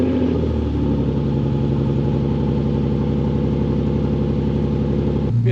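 An Infiniti G37 car engine with 200,000 miles idles steadily and loudly up close on a cold start, a low rumbling pulse holding even throughout with a slight shift near the end.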